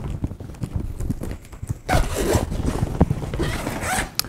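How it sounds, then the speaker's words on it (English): A zipper drawn all the way around a size M 65 cm expandable suitcase, a steady, close ripping zip that grows louder and rougher partway through, with no talking. "You have a zipper here. You just turn it all the way around the case"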